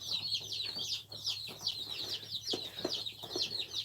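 Young farm chicks peep and cluck busily while pecking at feed, a rapid continuous chorus of high chirps with soft pecking taps underneath, close by.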